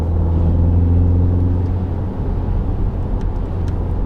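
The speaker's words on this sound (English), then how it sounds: "the MINI sound, which is artificial sound generated in the cabin" A steady, droning artificial engine hum generated in the cabin of a 2024 MINI Countryman John Cooper Works in normal mode, low and constant with a slight synthetic tone, no talking.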